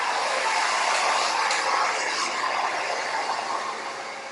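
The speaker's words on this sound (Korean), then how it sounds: "최대한 뿌리 가까이 바람을 넣어주세요" A hair dryer blows air close to the hair roots to lift volume, giving a loud, steady, close rushing whoosh that eases off slightly toward the end.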